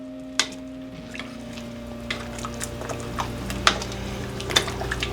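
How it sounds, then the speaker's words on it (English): A spoon stirs a pot of thick Texas Red chili, giving soft wet squelches and scattered light clinks against the pot over a low steady background, close and fairly quiet. "We're gonna go ahead and give this a nice stir."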